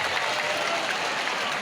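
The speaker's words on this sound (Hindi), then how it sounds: "तो जोरदार ताली बजा करके उन बेटियों का स्वागत करो" A large crowd at a religious divine court gathering claps loudly to welcome the daughters, a brief, dense, even burst of applause.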